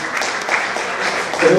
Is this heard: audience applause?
yes